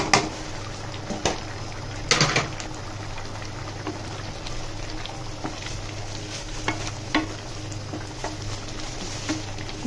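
A spatula stirs fish roe with a little fried onion beresta in a pan, giving a soft, continuous sizzle with scattered scrapes and a few louder clanks near the start.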